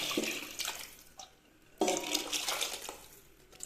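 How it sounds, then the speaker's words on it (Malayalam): Tomato cooking water poured into boiling rasam, a splashy liquid pour in two bursts with a short lull between, fairly close and alone. "ഈ സമയത്ത് നമ്മൾ തക്കാളി വേവിച്ചില്ലേ ആ വെള്ളം ചേർത്ത് കൊടുക്കാം"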